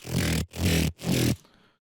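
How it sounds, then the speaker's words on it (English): A gritty, growling synth tone with no deep low end, played in three sustained bursts separated by short gaps, then a brief fading tail. "just some monster growl, just some saw tooth without any bass to it"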